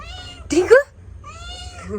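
A cat meows once, loud and close, between quieter drawn-out tonal sounds.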